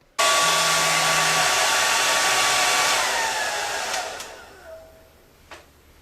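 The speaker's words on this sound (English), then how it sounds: "I don't know what kind of hairdryer it would be to melt the hard plastic casing of a PS3" A hair dryer blows steadily and loudly at close range, heating the hard plastic casing of a PS3 console, its whine dipping slightly toward the end with a few small knocks.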